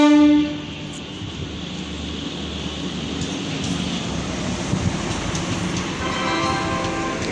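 Train at Chayapuri railway station, a small Indian station, with a brief horn blast at the start and then steady rumbling and rattling of rail cars rolling past nearby, and a second horn toward the end.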